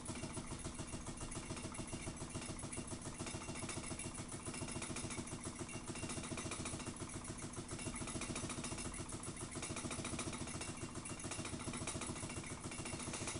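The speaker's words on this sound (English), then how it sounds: "give it a twirl, you can see what crazy RPMs it goes to when run on idle" A Ringbom Stirling engine spins at very high RPM on idle over a tiny flame, giving a steady, dense mechanical whir with rapid regular pulsing that stays constant and close throughout.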